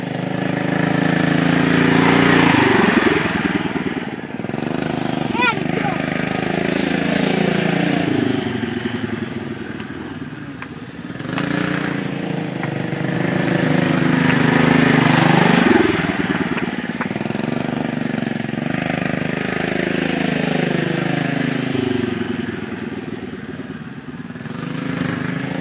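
A Yamaha TTR 125 dirt bike engine revs and drones steadily at part throttle while being ridden, rising and falling in pitch with a loud, continuous buzz throughout.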